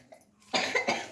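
A person coughs indoors, three sharp close coughs in quick succession after a quiet moment.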